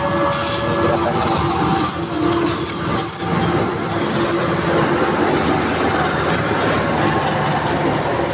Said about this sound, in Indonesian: Oh, ini kereta api Manahan.